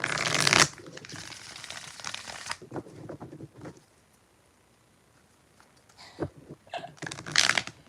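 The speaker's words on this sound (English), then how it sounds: "5 shuffles." Tarot cards are shuffled by hand in short crisp riffling bursts, loud at the start and again near the end, with a quiet pause in between.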